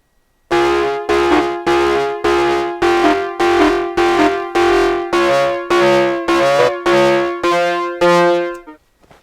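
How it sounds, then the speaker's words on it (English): A Korg Volca Keys synth, driven hard through old Dano pedals with a subtle grain effect, plays ten loud, evenly spaced distorted chord stabs, each gritty and harmonically dense, ending in a short decaying tail. "So we're driving the synth quite hard, and I've set up my grain effect just to be subtly on."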